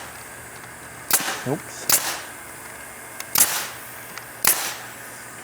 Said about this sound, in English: just stapling away